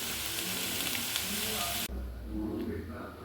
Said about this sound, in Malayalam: നന്നായി മൊരിച്ചെടുക്കുക